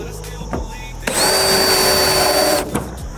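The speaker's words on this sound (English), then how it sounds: "we're just trying to drill enough that it marks the hole" A power drill whines steadily for about a second and a half, marking screw holes for a MaxxAir MaxxFan roof fan, loud and close, with short clicks and handling knocks before and after.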